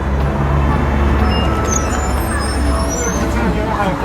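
A city bus on Urumqi's No. 2 loop line idles at a stop, its steady low engine rumble and road noise filling the scene, with a faint high hiss above and light talk nearby.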